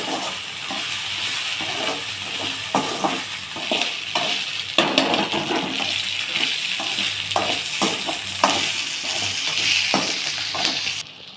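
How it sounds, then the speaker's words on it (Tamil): Ginger and garlic sautéing in a pan for tomato chutney, a steady bright sizzle with repeated soft scraping stirs and light clinks of the utensil. "இப்போ இஞ்சி பூண்டு சேர்த்து நல்லா வதக்கலாம், பச்சை வாடை போக."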